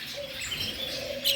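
Small finches and parakeets in a large bird store give quick high chirps and tweets over a soft room hum, a brief busy chatter without talk.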